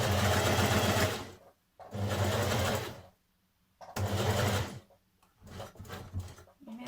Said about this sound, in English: we're going to stitch round this unnotched edge